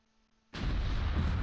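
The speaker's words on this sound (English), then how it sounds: "I just drop the mortar barrage right here, right now" A mortar barrage strikes infantry in the World War II strategy game Close Combat, bursting in suddenly after a near-silent half second into a loud, sustained rumbling roar of explosions that stays heavy to the end.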